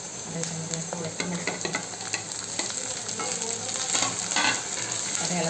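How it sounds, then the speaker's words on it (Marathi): Onion sizzles and crackles steadily in a hot pan for shevyacha upma, with close, continuous frying hiss and occasional stirring scrapes and pops, with no voices. "आता हा कांदा व्यवस्थित फ्राय करून घ्यायचा."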